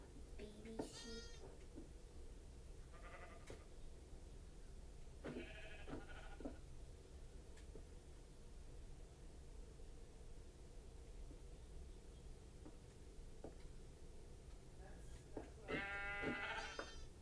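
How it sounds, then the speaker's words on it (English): Sheep and baby sheep in Minecraft give several short bleats spread out at intervals over a quiet, faintly hissing background, with a louder cluster near the end. "Baby sheep."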